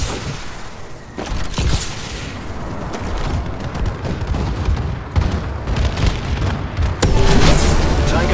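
Bombing run in Call of Duty Exo Zombies, with loud, continuous rumbling explosions and heavy blasts rolling together, and sharper booms breaking through toward the end, with no talk over them.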